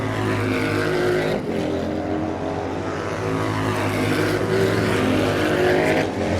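Harley-Davidson XR1200 racing motorcycles roar around the St-Eustache racetrack during a cup race, with loud, continuous engine drone from several bikes rising and falling as they pass.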